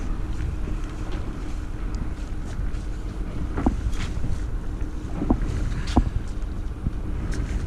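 A boat on the water during a White-tailed Eagle watching trip in Scotland, its steady low rumble under wind buffeting the microphone, with a few faint clicks and knocks scattered through.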